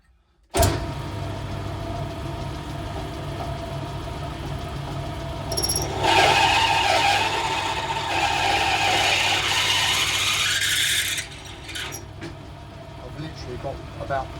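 A power drill or reamer works through bolt holes in brake calipers for a Harris F1 car, a sustained whirring grind that intensifies midway and then drops off, heard close up.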